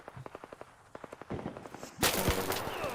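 Gunfire in the video game Arc Raiders during a squad firefight: a run of rapid, evenly spaced shots, then a louder, denser burst of heavy fire near the end, close and sharp.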